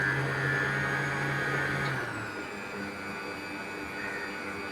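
Electric hand mixer whirring steadily through banana bread batter with chocolate chips, a continuous motor drone whose pitch shifts partway as the load changes, close and fairly loud with no talking.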